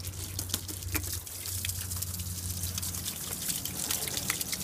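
Low-pressure water rinses the engine bay of a car with 155,000 miles, a steady hissing spray and splatter with scattered drips, close and continuous, alone.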